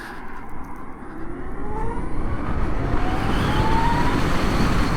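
Harley-Davidson LiveWire electric motorcycle pulling out and accelerating onto a busy road, a smooth rising whine climbing steadily in pitch over heavy, building road and traffic rumble and wind buffeting.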